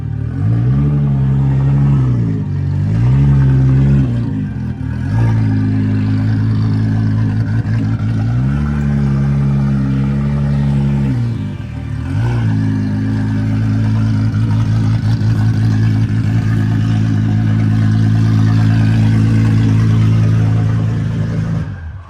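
A race car engine on a dyno roars loudly and close, climbing and falling through repeated rev sweeps, with brief dips between pulls and no voices.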